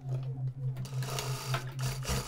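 A sewing machine runs a straight seam on a child's festa junina party dress, a close, rhythmic stitching whir in short, evenly pulsing bursts with brief pauses between them.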